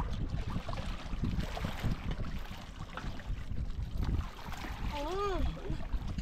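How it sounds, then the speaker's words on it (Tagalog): Strong sea waves slap and wash against a small fishing boat, a steady rough roar of water and wind through the whole stretch, with a brief whistling tone near the end. "Lakas ng alon mga kaidol."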